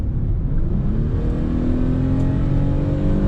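Ford Mondeo V6 with automatic transmission revving up from inside the cabin, a loud continuous engine drone whose pitch climbs steadily across the whole stretch.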